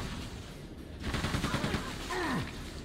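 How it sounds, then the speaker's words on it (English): Rapid weapon fire in the first-person shooter Quake II: The Reckoning on a moon base, a burst of repeated shots lasting a couple of seconds followed by a swooping electronic tone. "I'll just shoot them all"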